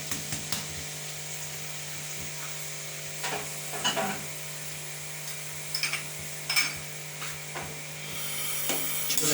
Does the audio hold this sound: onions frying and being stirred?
yes